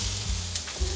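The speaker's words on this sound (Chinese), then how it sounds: "快速翻炒" Chopped cabbage and shiitake mushrooms are quickly stir-fried in a hot pan. There is a brief, close burst of sizzling with a soft scrape of stirring.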